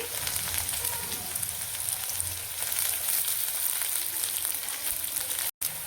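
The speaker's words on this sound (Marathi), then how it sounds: "यामध्ये मी कांदा टाकून घेते तर कांदा पण आपल्याला लालच तळायचं आहे तेलामध्ये" Onion frying in hot oil with red-cooked garlic-ginger paste, a steady dense sizzle and crackle throughout, close and fairly loud, with a brief moment of silence near the end.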